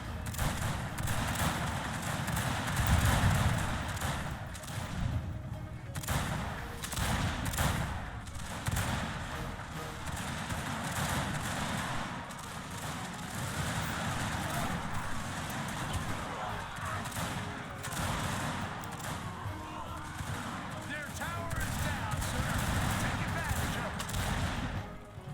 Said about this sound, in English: As our rockets and mortars also fire more on the enemy reserves.